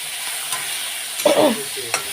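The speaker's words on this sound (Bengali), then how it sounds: "নুন আর হলুদটা দিয়ে দিলাম তা এখন একটু ভেজে ভেজে নেবো" Beans and eggplant frying with salt and turmeric in a pan, a steady sizzle with a few soft stirring scrapes and a brief louder burst of spatula movement midway.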